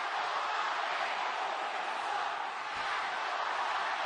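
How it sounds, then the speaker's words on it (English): A wrestling crowd cheering in a Chicago arena during a Roman Reigns versus Kevin Owens match, a dense, steady roar of many voices filling the whole stretch without letup, heard from a distance. "Fiery crowd as normal here in Chicago"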